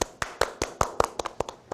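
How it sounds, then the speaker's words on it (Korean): A small audience claps, sparse and uneven, with distinct individual hand claps rather than a dense roar, close by and without talk over them. "뜨거운 박수로 맞아주세요."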